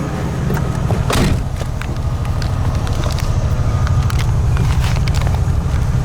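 A 1949 Lincoln's engine idles steadily with an even, low rumbling pulse, close and continuous, with a brief clunk near the start.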